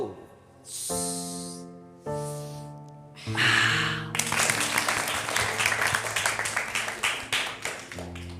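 A group gives a "flower clap" to welcome a guest at a gathering. It starts as a few drawn-out sustained sounds, then breaks into a burst of dense, rhythmic clapping.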